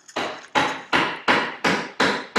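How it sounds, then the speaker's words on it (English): Loud, close hammer blows from house construction land in a steady series of seven sharp strikes, each ringing briefly before the next, with no one talking. "if you hear the hammering, I'm doing construction in my house."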